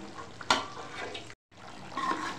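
Goat trotters (paya) fry in a pan with a steady, soft sizzle, broken by a sharp stir or clatter near the start and a brief silent cut partway through.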